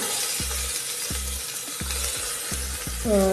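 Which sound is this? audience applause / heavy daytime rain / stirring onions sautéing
stirring onions sautéing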